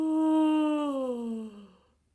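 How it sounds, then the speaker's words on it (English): A drawn-out yawn during a vocal warm-up: a voiced, sighing tone that starts strong, slides gradually downward in pitch and fades into breathy silence, heard alone. "Now I want you to work into a yawn"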